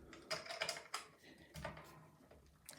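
Legge two- or three-lever mortice sashlock being locked, giving a cluster of close, sharp metallic clicks and ratcheting snaps as the bolt throws, followed by a few quieter clicks.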